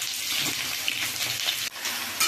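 Mango pieces being stirred with tempering spices in a large kadai for sweet mango pickle, producing a wet, hissing sizzle with shifting scrapes and a brief clatter.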